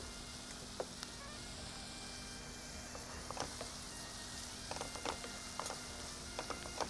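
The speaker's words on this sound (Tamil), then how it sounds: "அது பாருங்கள், வெங்காயம் வதங்குது." Onions sautéing in a pan on a Tamil cooking show, a steady soft sizzle with faint crackles and occasional light clicks throughout, heard alone without talk.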